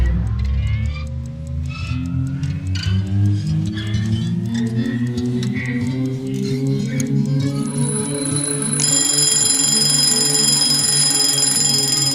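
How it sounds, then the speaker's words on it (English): Alarm clock ringing: a steady electronic tone swells in over a droning hum and settles into a loud, continuous high-pitched ring that persists to the end. "I think your alarm's about to go off."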